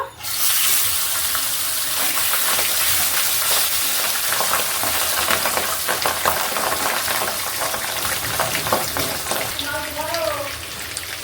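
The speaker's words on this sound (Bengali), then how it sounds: "বাকি মাছগুলো একইভাবে ভেজে নেব।" Remaining pabda fish dropped into hot oil, bursting into a loud, steady close sizzle and crackle that continues throughout, with a brief tonal clink near the end.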